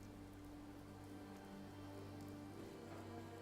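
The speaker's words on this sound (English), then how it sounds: "So it is a rainy day here in Sanctuary Hills." Steady rain falls across Sanctuary Hills in the Fallout 4 game world, a continuous even patter on surfaces with a low hum beneath, with no voices.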